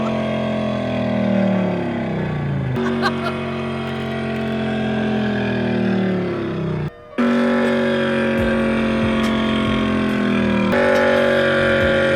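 A Honda Civic engine drones and revs steadily up close, pitch rising and falling with gear changes, briefly cutting out before resuming.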